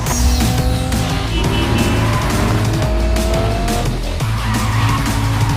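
Cars in the video game Cyberpunk 2077, including a 4-liter 6-cylinder model, roaring loudly with screeching tire skids and racing engine revs, dense and continuous under music.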